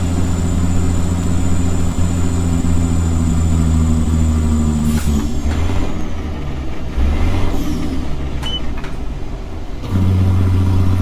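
A truck engine in American Truck Simulator runs steadily loud throughout, with a low rumbling drone, a brief shift in tone midway, and a whine returning near the end, heard alone without talk.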